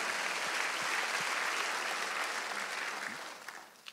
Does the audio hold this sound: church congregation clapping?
yes